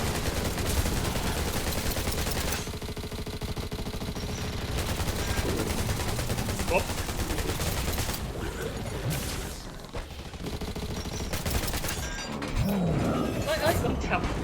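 Rapid bursts of gunfire from the shooter video game Undawn, dense and continuous for most of the stretch, with brief lulls, while players talk over the shooting.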